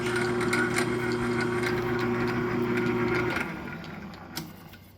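A machine chuck turns a tap threading a hole, giving a steady mechanical whirring hum close by that winds down and stops near the end, followed by a faint click.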